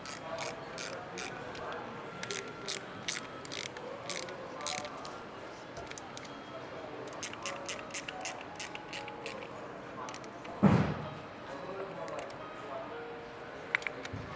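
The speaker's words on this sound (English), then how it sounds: "You only need to make them tight enough to hold the lock washer so the screw don't back out." Screws with lock washers being tightened on a Gemmecotti HTM mag drive centrifugal pump, giving bursts of quick ratcheting clicks with pauses between and one louder knock, close and moderately loud.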